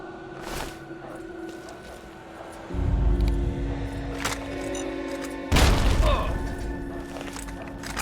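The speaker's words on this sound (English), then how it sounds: "I'll take a frag grenade." Frag grenade explosion in modded Fallout 3 on PC, heard as two heavy booming blasts that each lift into a sustained low rumble, loud and close over game ambience.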